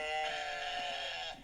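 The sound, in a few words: goats bleating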